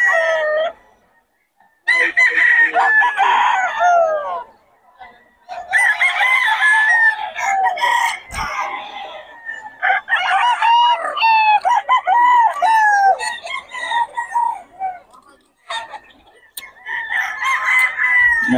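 A banded Early Bird gamefowl rooster crows loudly and close by, several drawn-out crows and clucking calls following one another with short silent gaps between them.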